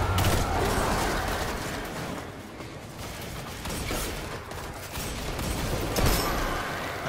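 Enemy weapon fire in Destiny 2 Shadowkeep's Scarlet Keep mission: a string of sharp, crackling bursts at close range that come in uneven clusters over a steady combat din, with no voices.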